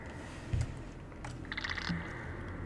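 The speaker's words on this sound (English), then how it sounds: "You could hear my mouse, right?" A computer mouse clicks sparsely at a desk during a House of Ashes gaming session, with soft taps close and quiet and no talking.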